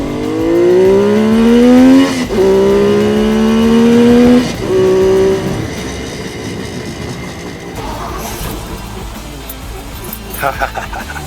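A Honda XL 175 motorcycle engine starts and runs loud and close, with a rising whine through several revving sweeps that settle into a rougher, uneven idle. Voices speak over part of it.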